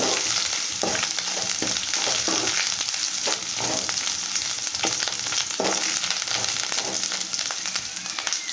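Something fries in hot oil in a pan while a curd charu pulusu is cooked, giving a loud, continuous sizzle with repeated scraping and clacking strokes from stirring, close up.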